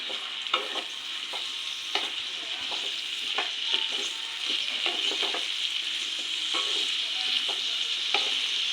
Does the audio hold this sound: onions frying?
yes